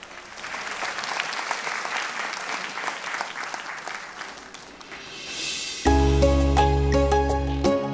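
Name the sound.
audience applause for a singer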